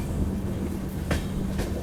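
Guwahati–Agartala Express rolling through toward the Barak Valley, a steady loud rumble of wheels on rails with rhythmic clicks of the rail joints, no voices.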